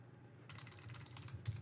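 Computer keyboard keys tapped in a quick, uneven burst while entering a search query, close and fairly quiet, with the clicks starting about a third of the way in.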